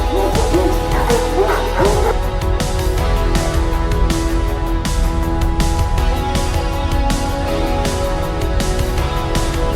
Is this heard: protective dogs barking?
yes